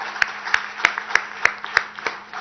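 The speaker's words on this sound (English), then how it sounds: "I think you deserve a much, much bigger round of applause than anybody else" A few hands clap in a slow, evenly spaced rhythm at a rocket launch success meeting in a hall at T-Hub, sharp distinct claps rather than a full ovation, fading by the end.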